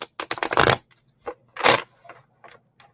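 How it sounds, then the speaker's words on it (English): Playing cards shuffled quietly in a few quick riffled bursts, close and short, separated by brief silences. "We're quietly shuffling."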